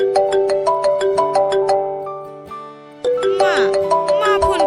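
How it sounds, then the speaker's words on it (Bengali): Phone ringtone for an incoming call, a loud bright repeating chime melody, close and alone with no talking. "মা, মা ফোন করেছে।"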